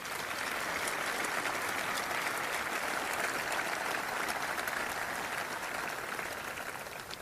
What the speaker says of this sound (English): I'd ask you to join me in a round of applause for our chairman.